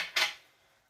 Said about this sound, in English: so I'm going to take off the ring.